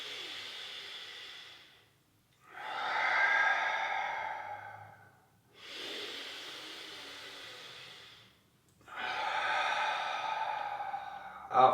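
Slow, deliberate breaths during a qi gong routine, four long airy breaths in and out through nose or mouth, each lasting a couple of seconds with brief gaps, close and alone.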